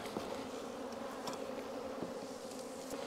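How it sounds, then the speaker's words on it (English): Honey bees buzzing steadily in an opened, bee-filled hive box, a dense close-up hum with no talking. "Box full of bees."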